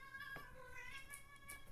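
A house cat meows in a drawn-out, wavering cry that is faint and close, heard alone against low background noise in an indoor room.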